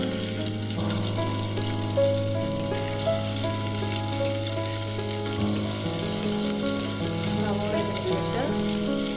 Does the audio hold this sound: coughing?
no